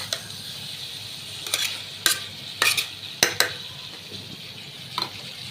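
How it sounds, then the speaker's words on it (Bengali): Chickpeas tempered in a hot pan are stirred, with a soft, steady sizzle and a handful of sharp spoon-against-metal scrapes and clinks spread across the few seconds. "এই তো এখন বুটগুলো বাগার দেওয়া হয়ে গেছে।"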